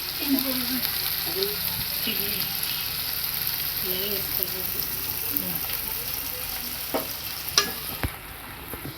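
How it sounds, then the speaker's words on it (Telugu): Onions frying in oil for an egg and dried fenugreek leaf curry, a steady close sizzle with occasional stirring scrapes and a few sharp clinks near the end. "ఆ రెండు కలిపి ఉండే టేస్ట్ ఆయిల్లోనే ఉంది కాబట్టి ఆనియన్స్ కూడా పడుతుంటే చాలా టేస్టీగా అనిపిస్తుంది"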